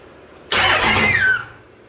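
A 235hp Cummins turbo diesel in a Dodge M37 on 37-inch tires cranks and fires in one loud, broadband burst of about a second, with a brief rising squeal near the end before it dies back to quiet.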